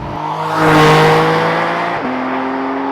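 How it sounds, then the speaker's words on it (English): A 2021 Porsche 718 Spyder's GT3 engine revs hard and climbs in pitch, then drops abruptly with a quick PDK dual-clutch gear change and pulls up again, loud and close. "this is where the PDK shines. Listen to those shifts."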